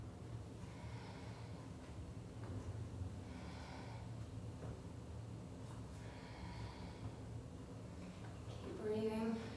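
Loud, noisy breathing during a full-body weight training workout, rushing in steady exhalations through the clip and building to a stronger push of breath near the end.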